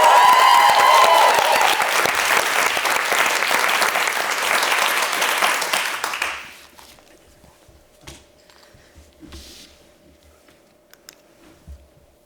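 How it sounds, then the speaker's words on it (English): Audience applause at a TV festival pitch panel in Edinburgh, loud dense clapping for about six seconds that fades out abruptly into a quiet room with faint shuffles. "I will need to give an extra big applause"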